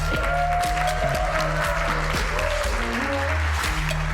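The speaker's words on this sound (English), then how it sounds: "please give a big round of applause for Todd, Senior Director of Technology with Snapdragon Studios" Applause from a conference audience welcoming a technology director onstage at the Snapdragon Summit, steady clapping over a low electronic hum and stage tones.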